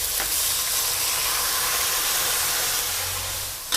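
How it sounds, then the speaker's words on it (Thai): Garlic sizzles in hot oil in a pan while being stir-fried for a shrimp and cashew nut dish, a steady close crackling hiss running without pause and easing slightly near the end. "ผัดกระเทียมให้เหลืองหอมเลย"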